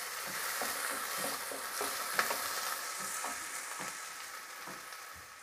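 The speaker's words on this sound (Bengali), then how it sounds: "পেঁয়াজটা আমার হালকা লাল করে ভাজা হয়ে গেছে" Onions frying in hot oil over a raised gas flame, a steady close sizzle with light crackles and a few stirring scrapes, no voices.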